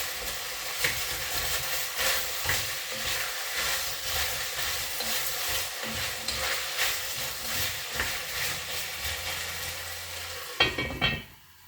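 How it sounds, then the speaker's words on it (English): Onions frying in a pan, a continuous close hissing sizzle with crackles and occasional stirring, fairly quiet overall, ending in a brief clatter near the end with no talking. "who doesn't love the smell of cooking onion?"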